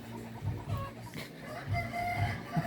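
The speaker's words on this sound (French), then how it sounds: "Il y a un poulet qui a décidé d'essayer d'attaquer un chien." A black hen clucking in short bursts during a scuffle with a dog, the calls repeating at close range in a noisy outdoor setting.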